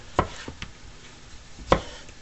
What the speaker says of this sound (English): So you're just gonna do a nice slice if your knife goes through it.